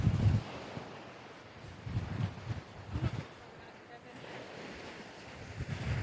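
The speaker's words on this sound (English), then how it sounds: "I think the sea is a distraction." Sea waves and wind at a beach by a holiday park: low rolling surges of surf wash in every second or so, with steady gusty wind rumbling over the microphone and no voices.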